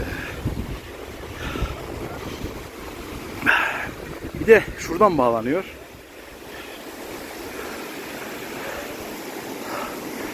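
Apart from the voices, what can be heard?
small waterfall on Koç Mountain, Erciyes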